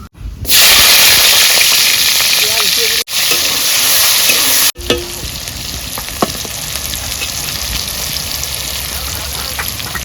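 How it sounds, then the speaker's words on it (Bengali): Bay leaves, whole cumin and dried chillies tempering in hot oil for a Bengali crab curry, a loud, close, steady sizzle and hiss that cuts out briefly twice, with faint clinks under it. "ফোড়নে আমি তেজপাতা, গোটা জিরে আর শুকনো লঙ্কা দিয়ে দিলাম।"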